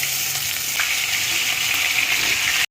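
Stuffed baby eggplants sautéing in a hot pan give a steady, bright sizzle and crackle of frying oil that runs evenly and close, then cuts off abruptly.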